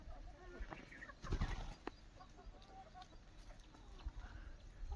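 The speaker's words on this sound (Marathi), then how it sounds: "अंड्यावरच्या 60 कोंबड्या आहेत सध्या" Free-range village hens resting in shade under trees at midday cluck softly and intermittently, with a few louder bursts and some wing rustling, fairly faint and distant with outdoor background noise.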